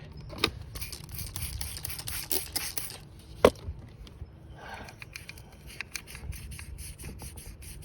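Short bursts of citrus cleaner hiss intermittently onto a 2015 Honda Fit throttle valve amid quiet scraping and handling noises, with a few sharp clicks in between.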